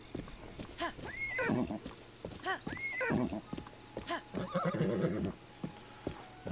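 In The Legend of Zelda: Breath of the Wild, a horse gives several loud, drawn-out whinnies and neighs over a continuous clip-clop of hooves, fairly close and prominent.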